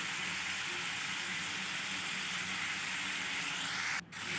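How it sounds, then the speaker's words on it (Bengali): Cauliflower fries in hot oil in a pan with a loud, steady sizzle and hiss that runs continuously, with a brief clatter near the end and no voices. "ফুলকপিটা একদম লাল করে ভাজতে হবে"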